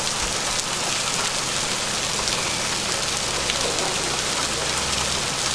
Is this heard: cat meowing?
no